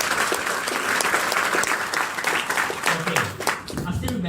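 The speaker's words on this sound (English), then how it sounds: "So give them a round of applause." Sustained applause from an audience fills the clip, dense clapping with a voice briefly heard over it near the end.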